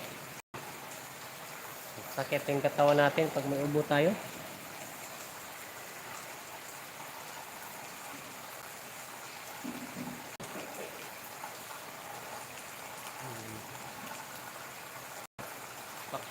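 Steady rain falls outdoors as a constant, even hiss throughout, while a person speaks briefly early on and faint voices surface later over the downpour.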